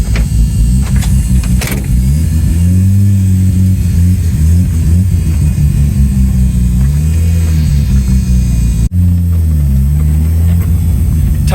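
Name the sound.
four-rotor rotary engine car revving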